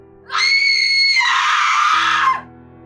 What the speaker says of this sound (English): there was an ear-piercing scream coming from the room.